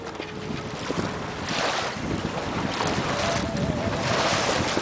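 A sailboat on port tack across Lake Ontario near the Scarborough Bluffs, moving at about 5.5 knots: steady wind rush over the microphone with water washing along the hull, continuous and fairly loud, with no talk.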